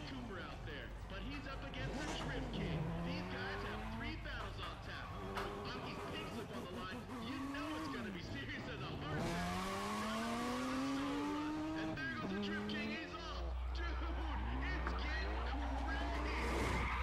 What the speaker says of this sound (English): let's go ahead and do the first drift